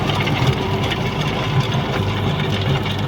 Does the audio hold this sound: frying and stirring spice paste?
no